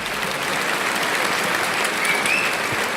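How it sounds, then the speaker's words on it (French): A pageant audience applauds the fourth runner-up at the Miss Picardie 2018 results ceremony, the clapping loud, dense and continuous throughout with a faint crowd murmur beneath. "Vous pouvez l'applaudir bien fort."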